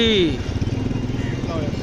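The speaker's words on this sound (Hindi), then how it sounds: "चलो चलो चलो बाइक स्टार्ट करो भाई" Motorcycle on a busy street during a Muharram day in Sadar, its engine catching and settling into a quick, pulsing idle close by, with a voice talking over it.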